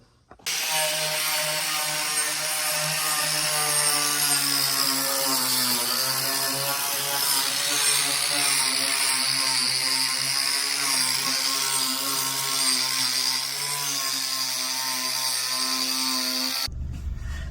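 An angle grinder works on tires, producing a loud, steady, harsh whine that runs unbroken for about sixteen seconds before cutting off abruptly.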